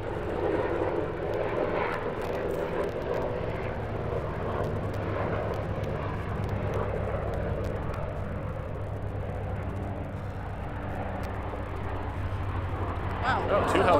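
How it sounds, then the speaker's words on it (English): Military helicopters, two of them, pass overhead in the Florida Keys after Hurricane Irma, making a loud, steady, low rotor-and-engine roar that fills the whole stretch, with voices faintly underneath. "we have a helicopter going over, so apologize if the sound overwhelms us"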